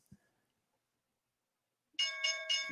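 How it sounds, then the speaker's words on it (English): Stock market closing bell ringing out after near silence, a bright metallic ring with repeated strikes, fairly loud and alone. "That's your closing bell."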